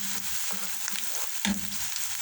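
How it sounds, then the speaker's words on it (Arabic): Butter melts and chopped onion fries in a pan with a quiet, steady crackle. Soft bubbling pops and a brief louder sizzle burst occur partway through. "ها هو راه كيدوب شو دوك الفقاعات راه كيدوب الزبده، وفي نفس الوقت البصله ها هي كتشحر وانا كنقلي فيها"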